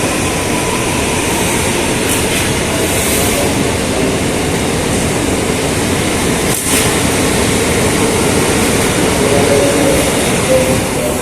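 Loud, steady rumble and rattle of a train in motion, continuous throughout with a brief metallic clack partway.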